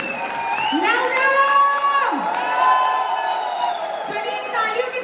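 A large live audience at an AWPL stage speech cheers loudly, with long overlapping yells and whoops in rolling waves and a softer bed of crowd noise and clapping beneath.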